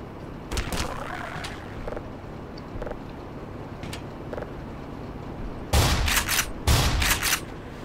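Shotgun blasts from the game Black Mesa crack out in the Half-Life 1 remake. Two loud, close shots land near the end, a few fainter reports sound earlier, and a low background hum runs throughout.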